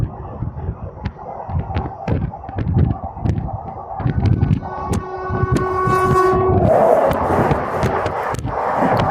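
The Howrah–Kalka Netaji Express runs through an Indian railway junction without stopping, its wheels rattling over the rails in loud rhythmic clatter as a long horn blast sounds and birds call nearby.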